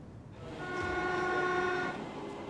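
A Docklands Light Railway driverless train in East London passes with a steady tonal hum and whine swelling, peaking briefly, then easing away over a low rumble.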